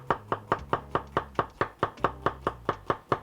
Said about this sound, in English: slice up 1 red onion.